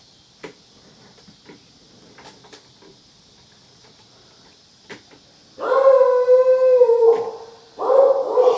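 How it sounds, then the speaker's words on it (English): A dog howls loudly in two long, wavering bouts near the end, after a stretch of faint ticking and scattered small knocks with no barking clearly standing out. "Shut up, dog."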